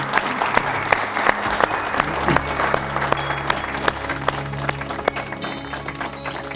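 Loud, sustained applause from the studio audience of an Odia devotional quiz TV show, dense overlapping claps with sharp individual hits standing out, continuing steadily from start to finish with no speech.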